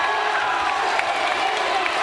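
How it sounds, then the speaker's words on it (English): A wrestling arena crowd at Final Resolution 2005 roars and cheers in a dense, sustained wall of noise, with a commentator's voice over it. "The crowd goes crazy."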